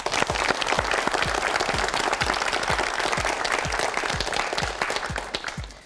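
A studio audience on a Korean TV quiz show claps in sustained applause, a dense patter of many hands close and loud for about six seconds before tapering off slightly at the end.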